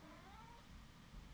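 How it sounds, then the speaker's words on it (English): A pet cat meows in a drawn-out, wavering call, fairly faint and close, over a low steady room hum with no talk. "and my cat's meowing."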